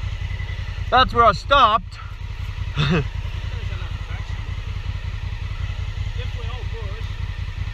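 A Honda Africa Twin motorcycle engine idles steadily and low throughout, close by, under people's conversation and brief shouts.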